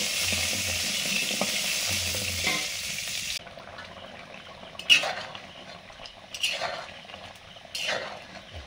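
Whole tender green mangoes fry in oil tempered with five-spice, giving a loud broadband sizzle for the first few seconds that then drops to quiet crackling with a few scraping stirs and clinks.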